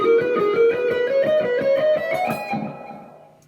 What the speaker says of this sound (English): what I'm playing there is just 6 notes straight up